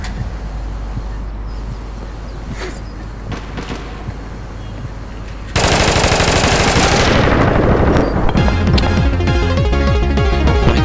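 Sustained automatic weapon fire in the online shooter game APB Reloaded, a loud rapid continuous burst that erupts midway after quieter background activity and keeps rattling to the end.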